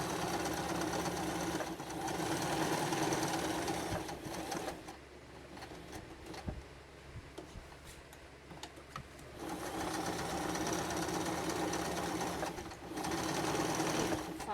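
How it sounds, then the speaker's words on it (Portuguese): A sewing machine stitches a safety seam along the edge of fabric for a toiletry case, running in steady mechanical bursts with a quieter pause in the middle, close and clear. "Passa aqui uma costura de segurança bem na pontinha."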